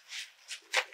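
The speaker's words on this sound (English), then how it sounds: "So I think this is just packaging. That's white paper." White packing paper inside a monthly witchy subscription box rustles and crinkles close by in three short bursts, the last one loudest, with no talking.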